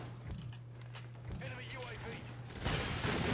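Scattered gunshots go off in a shooter video game, with one louder burst near the end, while a player talks over them and a steady low hum runs underneath.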